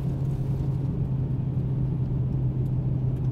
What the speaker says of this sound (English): So I'm going to drive down a section of bumpy road.